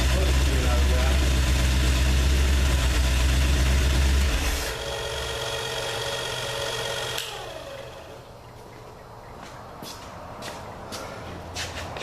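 A Ford 302 V8 engine idles steadily and loudly with a deep rumble, then the sound shifts and drops to a quieter, lighter running tone with faint clicks toward the end.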